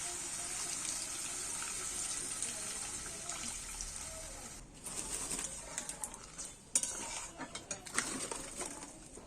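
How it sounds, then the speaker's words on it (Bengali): Water poured into a pan of egg curry makes a soft, continuous trickle, followed by a few faint clinks and scrapes of utensils near the end. "আমি একটু সাইড দিয়ে আমি একটু জল দিয়ে দিচ্ছি"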